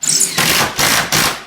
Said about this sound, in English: So drive that long screw into your ledger board about 1/4 inch or so